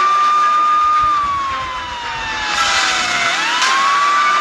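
Police sirens on trains in Thomas & Friends: a loud, continuous wailing siren that sweeps down and back up in pitch over a steady rumble of moving machinery.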